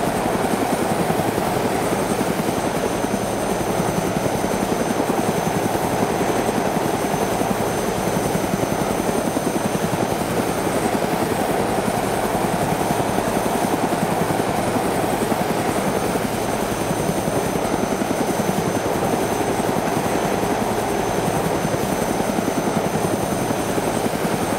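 A steady helicopter rotor drone in the video game ArmA 2 DayZ Mod runs continuously with no letup, loud and constant throughout, with no voices.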